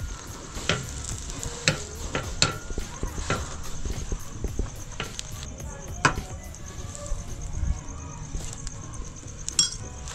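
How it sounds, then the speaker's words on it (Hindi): Pav bread rolls frying in pure desi ghee on a street-food griddle for pav bhaji, a steady close sizzle broken by sharp clinks and scraping taps of a metal spatula. "देसी घी में हम इसको अभी भूनेंगे पाव को।"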